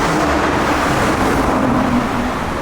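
A loud, continuous Lamborghini Urus SUV engine rumble with road noise, close by and steady, no voices over it.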